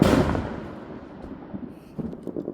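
Fourth of July fireworks going off outside at night, a loud boom at the start followed by a fading rumble and several quieter, distant pops and crackles toward the end.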